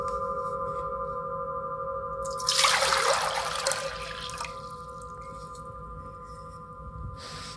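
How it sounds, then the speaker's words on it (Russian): A large forged singing bowl holding water is played by rotation, giving a sustained ringing tone with a burst of splashing, hissing water as the vibration builds, then fading back to the steady hum. "Проверим вибрационные свойства большой чаши."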